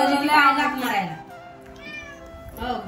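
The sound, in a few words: cat meowing, asking for food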